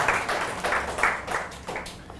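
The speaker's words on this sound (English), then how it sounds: "Give yourself a round of applause." An audience gives a brief burst of clapping at a gathering on spirituality and art, rhythmic and moderately loud, fading out after a couple of seconds.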